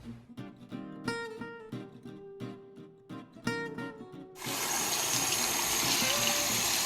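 Water gushes loudly and continuously over kale seeds held in a small filter, starting abruptly after several clinks and handling knocks.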